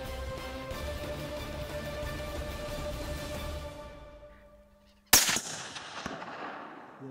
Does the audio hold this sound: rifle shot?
yes